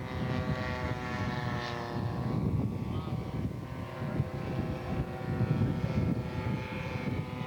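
A radio-controlled scale model airplane flies past at a scale aircraft show, its propeller engine giving a sustained buzzing drone with strong harmonics that swells and eases slightly in gusty wind, moderately close and without talk.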